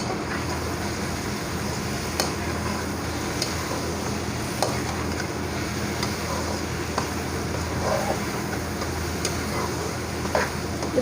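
A spoon stirring okra (bhindi) as it fries in a pan, a steady close sizzle with faint irregular scraping clicks of the spoon, continuous throughout.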